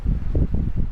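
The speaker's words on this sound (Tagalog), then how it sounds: "Grabe yung hangin." Strong wind gusts outdoors in a Nepal yard, heard as loud, close rumbling buffeting that rises and falls in repeated surges with no speech.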